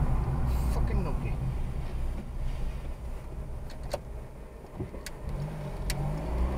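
Lorry, registration NA59 ULG, passing close on the road in a near miss, a steady loud engine and road rumble with someone speaking over it.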